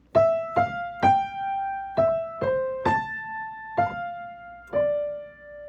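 Solo piano plays the right-hand melody of the new part of a piece, nine clear single notes struck one at a time at a moderate pace, each ringing and fading before the next, no talking.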